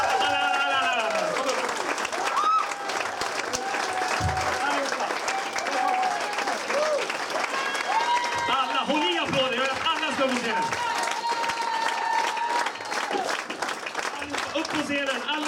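Sustained audience applause in a theatre for ten comedy contest finalists called onto the stage in Stockholm, steady clapping throughout with a host's amplified voice and music over it.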